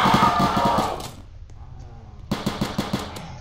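Rapid gunfire bursts from shooting zombies in the Roblox game, a dense volley up front, a short lull, then a quicker string of sharp shots near the end.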